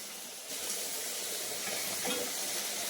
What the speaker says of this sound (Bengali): এটা ভাজা ভাজা হোক, তারপরে আদা রসুন দেওয়া হবে।